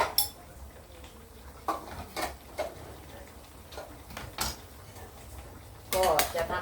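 Pork rinds stirred in a pan, heard as scattered metallic clinks and scrapes from a utensil, close and fairly quiet, with a louder burst of stirring at the end.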